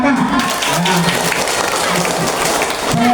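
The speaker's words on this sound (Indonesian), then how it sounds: "Ya, tepuk tangan buat Raka." Classroom audience applauding for a student named Raka, a dense steady wash of clapping held throughout, with voices calling out over it.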